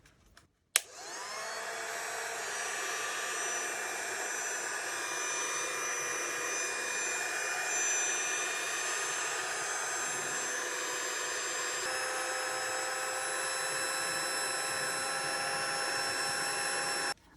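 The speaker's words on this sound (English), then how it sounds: "I'm going to use the heat tool on this one" A heat gun blows hot air in a steady, loud whirring rush with a high whine, running continuously after a click switches it on.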